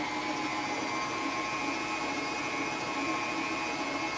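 A stand mixer fitted with a dough hook churns sweet dinner roll dough, giving a steady, loud motor whir with a constant mechanical hum that runs unbroken and close.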